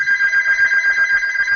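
A phone rings with a steady, loud electronic tone that pulses gently in level throughout, alone with no voices.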